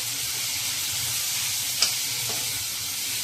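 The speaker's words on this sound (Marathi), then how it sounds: "हे चांगलं परतून घेते." Chutney ingredients sautéing in a pan, including tamarind, for an idli and dosa side, giving a constant close sizzle and hiss with one sharp utensil clink partway through.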